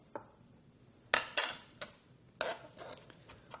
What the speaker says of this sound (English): All right, we're going to chop this up.